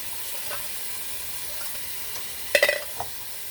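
Water runs steadily in a kitchen sink while dishes are washed, a constant soft hiss broken by a brief cluster of clinking dishes near the end.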